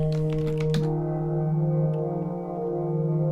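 Keys on a computer keyboard tap in a short, brisk burst of typing, entering a code in the Five Nights at Freddy's fangame Emma's Diner, then fall silent over a steady low game hum.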